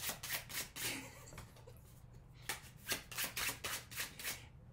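Embossed, textured tarot cards are handled and shuffled close by, making a run of crisp flicking, riffling bursts in a quick uneven rhythm with a short pause midway.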